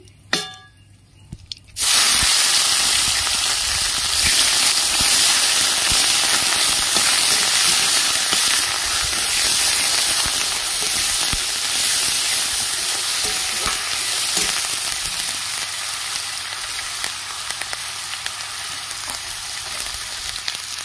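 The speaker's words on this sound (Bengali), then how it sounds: "পেঁয়াজ বাটা দিয়ে দিচ্ছি।" Onion paste dropped into hot oil with nigella seeds, bursting into a loud, dense, hissing sizzle right after a few quiet clinks, then frying steadily and close for a long stretch.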